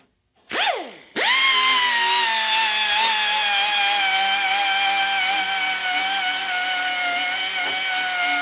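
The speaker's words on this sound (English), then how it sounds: "when you're using an air sander, never directly just pin this right into the metal and go at it" An air sander spins up with a sharp rising whine, then holds a loud, steady high-pitched drone while grinding rust off metal, running alone for several seconds.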